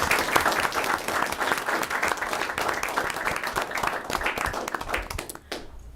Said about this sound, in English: I would like to extend a tremendous round of applause